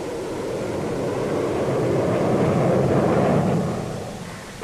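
A Boeing B-47 jet bomber roars loudly and steadily, a broad rushing jet noise that swells toward the middle and fades near the end.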